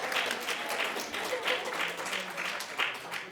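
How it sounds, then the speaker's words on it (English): A small audience claps through a round of applause after a game-show moment at a family court training session, the clapping steady and moderately close with faint talk underneath. "Let's give her a round of applause."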